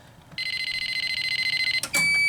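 A fire alarm panel triggered into alarm during a system upgrade sounds a loud, steady pulsing electronic tone that beats in rapid even pulses for about a second and a half, then breaks into a brighter, louder sustained tone.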